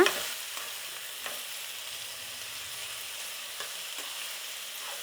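Raw banana pieces fry in a pan with a steady soft sizzling hiss, broken by a few light scrapes and taps as they are stirred.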